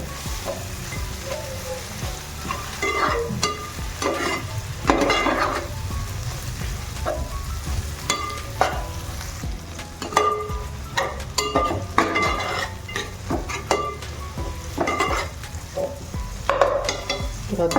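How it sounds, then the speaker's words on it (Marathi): Masala sautéing in a pan, with a loud, continuous close sizzle broken by frequent scraping strokes and clinks of a spatula as it is stirred, all through the clip, no one speaking. "हा मसाला आता परतून झाला"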